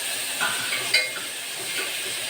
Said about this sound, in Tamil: நல்லா அந்த வெங்காயம் பூண்டெல்லாம் இந்த எண்ணெயிலே நல்லா வதக்கணும்